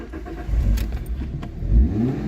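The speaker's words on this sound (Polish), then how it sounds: "przekręcenie kluczyka" A Fiat Coupe's ignition key is turned and its five-cylinder engine starts, a short close burst of jangling keys and cranking that catches into a rising engine rumble.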